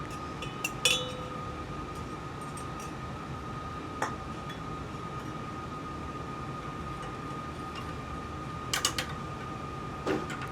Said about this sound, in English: We're going to go ahead and place this inside of our sodium hydroxide bath.